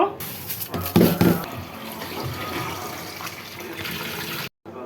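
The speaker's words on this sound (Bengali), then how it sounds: "আমি চালগুলি ধুয়ে নিব" Tap water runs and splashes into a pot while rice is washed by hand in a kitchen, giving a steady rushing flow with brief louder sloshes and a short break near the end.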